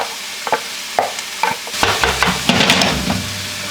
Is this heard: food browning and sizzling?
yes